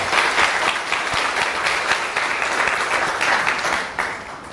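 Audience applause at a Korean seminar on getting rich, a dense burst of clapping from a seated crowd that holds steady for several seconds, then fades.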